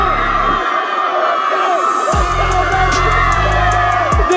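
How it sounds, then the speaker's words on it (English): A high school crowd cheers and shouts at Hurricane High School during a Friday night football event, a loud, continuous wash of whoops and yells layered with music-like tones throughout. "The crowd has lost its mind here at Hurricane High School"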